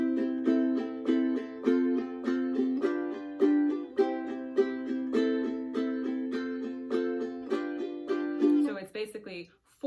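A ukulele strums a repeating chord progression in steady down-up eighth notes, bright and close, with no voices and the chords ringing clearly throughout.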